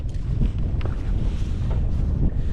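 Heavy wind buffets the microphone on a fishing boat out on a lake, a loud, constant low roar that fills the whole stretch with no talking.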